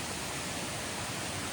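Waterfall beside the Appalachian Trail near a bridge, a steady, even roar of falling water heard alone and without pause.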